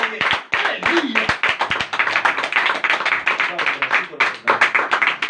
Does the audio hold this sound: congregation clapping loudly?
yes